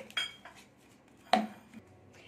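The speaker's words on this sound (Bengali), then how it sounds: "এটা আমি ভালো করে ম্যাশ করে নিচ্ছি" Boiled, peeled potato is mashed in a metal dish with a utensil, giving a few sharp clinks and scrapes against the pot amid quiet, soft handling sounds.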